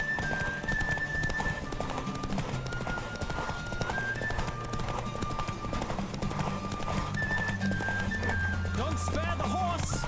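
Horse galloping in a race in The Witcher 3 game, fast rhythmic clip-clop hoofbeats with a neigh, under sustained music and voices talking.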